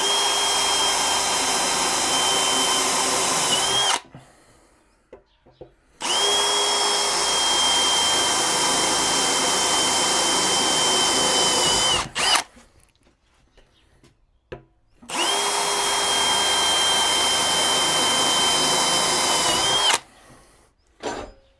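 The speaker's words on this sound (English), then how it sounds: "Metal drill bit. A good power tool." Power drill with a metal drill bit boring into a whisky barrel being turned into a beehive, a loud steady whine in three long runs of several seconds each, separated by short quiet pauses.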